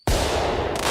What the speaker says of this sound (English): Let's give you some fireworks.